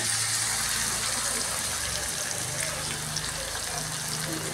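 Chicken frying in a spiced masala paste in a home kitchen, a continuous hissing sizzle with bubbling crackle that rises and settles, steady and fairly close.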